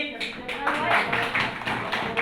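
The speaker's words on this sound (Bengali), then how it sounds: "হাততালি" Rhythmic hand clapping in a spoken-English classroom, a run of sharp claps at an uneven pace with children's voices mixed in around them.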